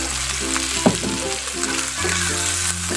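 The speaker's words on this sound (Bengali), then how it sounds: "একটু ভেজে নিব।" Chopped green chillies and boiled shredded chicken frying in a pan for Bangladeshi chicken noodle soup, a steady close sizzle with a brief scrape of stirring near the start and no voices.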